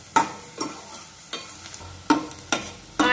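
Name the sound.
onion sautéing in oil on low flame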